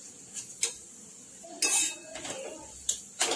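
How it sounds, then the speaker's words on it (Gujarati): A spatula clinks and scrapes against a pan as moong dal kachori spice filling is roasted on low heat, giving a few sharp metallic knocks separated by quiet gaps, close and moderately loud. "ધીમા તાપે એને શેકી દેવાનો છે મસાલાને"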